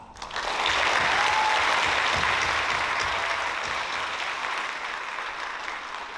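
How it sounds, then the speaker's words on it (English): A graduation-ceremony audience applauds the graduating class, the clapping swelling quickly after a brief quiet start and holding steady and full, then easing slightly toward the end. "please join me in giving a big round of applause to our graduating class"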